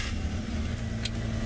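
A safari vehicle's engine running rough and strained as it struggles, a continuous loud rumbling idle held close throughout the short stretch, with no speech over it.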